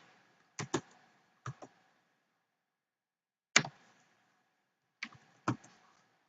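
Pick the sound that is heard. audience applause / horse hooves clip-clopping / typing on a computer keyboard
typing on a computer keyboard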